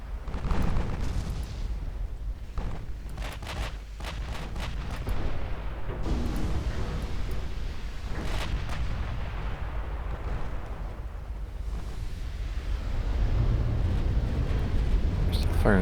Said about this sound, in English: Firing HE at that battleship